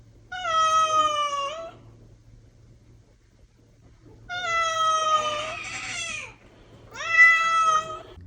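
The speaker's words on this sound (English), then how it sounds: "she was just meowing so loudly at me" A cat meows loudly and insistently in three long, drawn-out, wailing calls separated by short pauses, close to the listener over a faint low hum.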